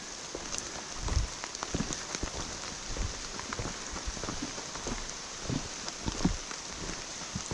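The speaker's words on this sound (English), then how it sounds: "The rain has not let up for us yet," Steady rain patters on a forested trail near Baker Peak in Vermont, a soft, even wash of drops with scattered louder hits on nearby surfaces, no voices.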